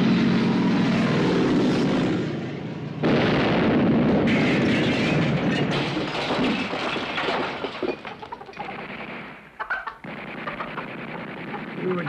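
Twin-engine Heinkel He-111 bomber aircraft engines droning loudly through a wartime scene, a steady propeller roar running the whole time with shifting intensity, partly under people talking.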